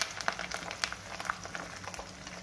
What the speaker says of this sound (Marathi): आणि मनुके थोडेसे तळून घेते, म्हणजे मऊ आणि फुगतील ते थोडेसे।